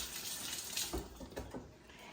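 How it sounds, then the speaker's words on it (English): Water runs steadily from a kitchen tap at close range, a continuous hissing splash with slight shifts in flow and no speech. "I'm going to turn my water on because I'm going to need this to wash my hands"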